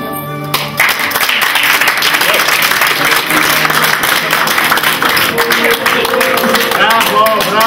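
Audience applause at a beauty pageant: sustained dense clapping from a crowd, loud and close, continuing steadily with a presenter's voice speaking over it.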